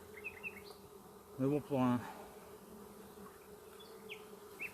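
A honeybee swarm buzzes steadily at a beehive, a soft, continuous drone that fills the background while someone briefly speaks in French close by.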